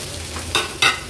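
Potato pieces tipped into hot oil with turmeric, two quick bursts of sizzling splatter over a steady low frying hiss, close by.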